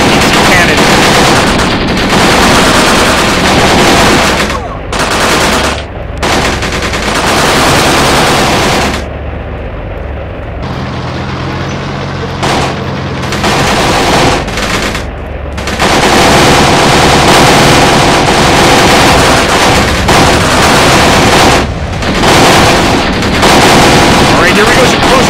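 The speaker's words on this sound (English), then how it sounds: "Just hit that guy with our APC cannon." Loud APC cannon and machine gun fire from the war game Graviteam Tactics: Shield of the Prophet, sustained rattling bursts with a brief quieter lull midway before the heavy firing resumes.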